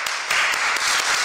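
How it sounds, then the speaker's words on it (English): A church congregation claps in praise, a brief, loud burst of many hands clapping together in a dense, even wash that lasts just over a second. "Can we give God a grand clap of praise?"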